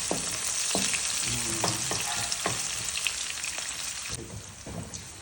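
White onion sautéing in a pan before sardines go in: a steady bright sizzle throughout with occasional louder stirring scrapes and clicks, close and fairly loud, no voices.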